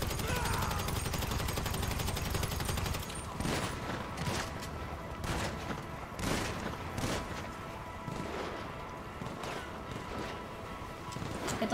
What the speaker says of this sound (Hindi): भाई कोई तो गोलियां मार रहा है हमें।